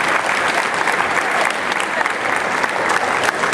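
Steady, dense crowd applause for the women's category winner at a marathon awards ceremony, loud and continuous throughout without any talk.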